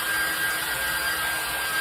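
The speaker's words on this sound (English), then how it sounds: "this is why I bring the hairdryer" A steady, airy whoosh of a hairdryer runs continuously at close range with a faint high whine, no pauses or voices.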